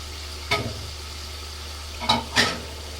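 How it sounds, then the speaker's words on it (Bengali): Oil-fried potatoes are stirred into chicken biryani meat in a pot, giving three brief scraping, sizzling stir strokes over a low, steady background hum. "এই যে আলুগুলো আমি তেলে ভেজে নিয়েছি এখন দিয়ে দিলাম"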